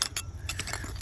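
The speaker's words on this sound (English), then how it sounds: "Broken glass." Broken glass pieces clink and tinkle in dirt while someone digs, a few close, bright chinks over about a second with no talking.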